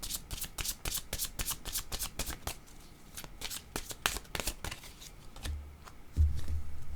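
Tarot cards being shuffled up close, a quick run of crisp riffling flicks that gives way to a low rumble near the end.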